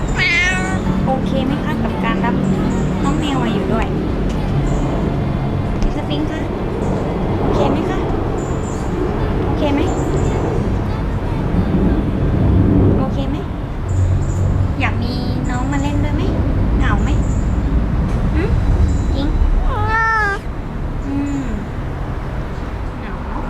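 A newly adopted kitten or cat meows several times in a home during a Thai household's pet introduction, rising chirpy calls breaking through steady conversation and background traffic rumble.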